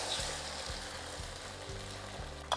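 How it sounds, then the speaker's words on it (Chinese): Beaten egg sizzles in a pan over medium heat, a soft continuous frying hiss with faint low pulses, heard alone. "来蛋下去之后我先让它煎一下"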